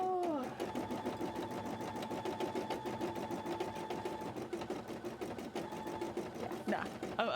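An embroidery machine works a large cosplay embroidery, its needle stitching in a rapid, steady mechanical rhythm close by for the whole stretch.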